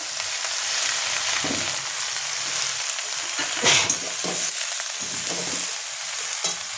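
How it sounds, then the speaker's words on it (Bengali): Vegetables sauté in a pan with salt and turmeric powder for a Bengali amudi fish and vegetable curry, giving a steady, close hiss of oil with occasional scraping stirs and brief louder pops. "সবজিটা আমি একটু সাঁতলে নিয়েছি"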